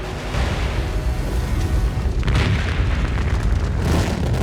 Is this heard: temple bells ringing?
no